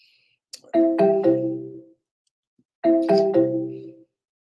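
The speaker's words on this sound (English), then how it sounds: "If any of my staff members are watching, please answer the phone." An office telephone rings in two bright electronic bursts separated by a short pause, loud and close with no speech over it.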